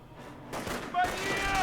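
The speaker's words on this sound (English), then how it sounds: "Heavy MG! MG42 in a very, very good position. I'm going to pepper up this area." A German MG42 heavy machine gun firing in the Company of Heroes video game, with sharp, loud bursts cutting in after a quiet start amid battlefield noise and a voice talking over it.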